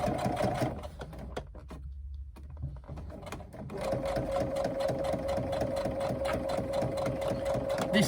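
A sewing machine, set up beside an industrial one in a cramped sewing area, stitches a JoJo handbag in a steady, fast mechanical whir, stopping briefly for about a second before running on continuously and close by.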